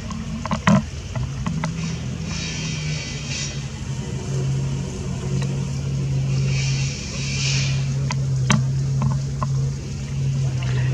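Porsche 930, the 3.3-litre 911 Turbo of about 300 hp, running a hill climb, its engine a steady low drone throughout with a few sharp clicks and knocks over it, moderately loud.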